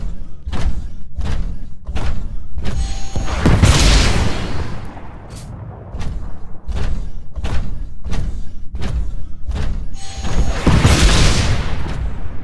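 Rockets explode one after another in a Titanfall hallway, a steady series of loud, booming thuds with two longer roaring blasts in between, close and forceful, with no talking.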